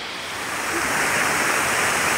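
Bolinao Falls in Pangasinan, Philippines, pours in a constant, dense rush of falling water, loud and unbroken, with no voices over it.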